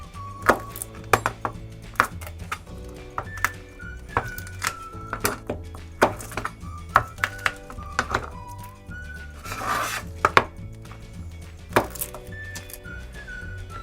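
Garlic cloves are chopped with a knife, prepared for fermenting hot peppers in 500 ml jars: sharp, close knocks on a board come at an uneven pace, about twenty over the span, over a faint tonal background.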